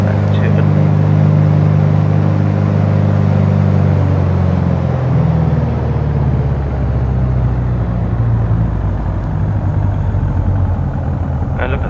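A PA28 Arrow's piston engine and propeller drone steadily and loudly as power is pulled back toward idle, the harmonic tones sliding lower and the engine note settling into a rougher, slower idle rumble.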